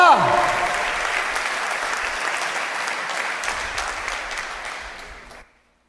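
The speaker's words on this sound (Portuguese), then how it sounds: "Você pode aplaudir ao Senhor, querido." Applause from a church congregation fills the sanctuary as a steady, dense roar of many hands for about five seconds before stopping abruptly, with a voice briefly heard at the start.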